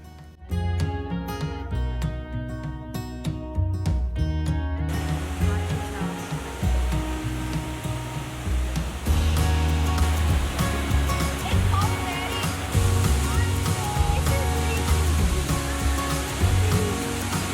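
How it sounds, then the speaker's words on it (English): Broad, continuous rushing roar of a large waterfall in the Great Smoky Mountains area, fairly distant and steady, with a strong musical track playing over it throughout. "drove up to see a magnificent waterfall"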